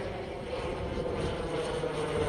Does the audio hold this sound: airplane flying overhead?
yes